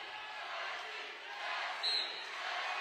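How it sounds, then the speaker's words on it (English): Grand Island home crowd at a Kearney versus Grand Island high school wrestling dual, a steady wash of broad crowd noise and cheering that swells slightly midway, heard from within the gym with no clear single voices. "there's that Grand Island crowd"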